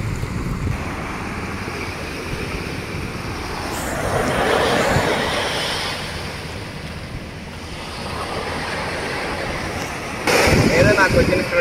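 Sea waves wash onto a small beach beside Marine Drive in Mumbai, a continuous rushing surf swelling and easing, heavily buffeted by wind noise, with a louder gust at the end.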